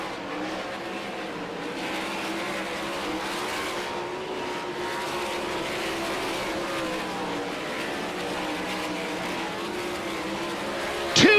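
World of Outlaws sprint cars race at Devil's Bowl Speedway, a steady, loud engine roar of several cars circling the track, with a sudden sharp burst near the end.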